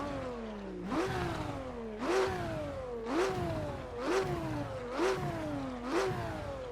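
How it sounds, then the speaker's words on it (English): A Porsche engine in a racing simulator game revs up in six repeated, evenly spaced bursts, each pitch climbing sharply then sagging back down, loud and close with no talk. "we do also have to do our obligatory sound check because it's a Porsche and it sounds really good"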